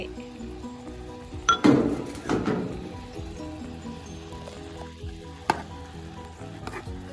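Thai shrimp paste and sliced shallots hit a hot pan with a sharp burst of sizzling and clinking utensils, then the frying settles into a softer crackle with occasional taps, close up and without voices.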